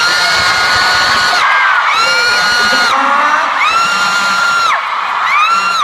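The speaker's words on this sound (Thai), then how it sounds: "อยากให้เขารักกันนานแค่ไหนก็กรี๊ดกันนานเท่านั้นแหละครับผม" A large crowd of fans screams and cheers in long, loud, continuous shrieks at a live event introducing on-screen celebrity couples, several high-pitched voices rising and falling together.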